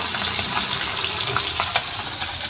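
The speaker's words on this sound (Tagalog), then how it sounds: "Yan prito." Food sizzles and fries steadily in a pan during a simple home sauté, a dense continuous crackle that stays close and loud throughout with no talking.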